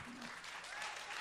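Conference audience applauding, a sustained patter of many hands clapping at moderate distance for a short stretch, with no clear speech over it.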